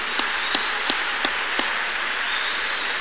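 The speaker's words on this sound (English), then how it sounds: "Clap your hands unto God of the chosen." A congregation at a church service claps hands in five sharp, evenly spaced claps, then stops, over a steady background of crowd and room noise.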